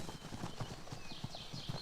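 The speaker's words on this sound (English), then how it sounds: "The Konik, or Little Horse, is a race of pony from Central and Eastern Europe." Konik ponies, a small Central and Eastern European horse breed, clip-clopping with a quick, even rhythm of hoof strikes, faint and somewhat distant against a soft outdoor background.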